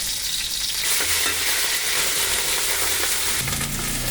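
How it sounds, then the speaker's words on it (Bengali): Chopped onion with garlic and ginger paste fries in hot oil for biryani, a dense, steady close-up sizzle with light stirring, no one speaking. "তেল দেওয়া হয়েছে পাত্রে পেঁয়াজ কুচি পেঁয়াজ কুচি দিচ্ছে সাথে রসুন আছে আদা বাটা"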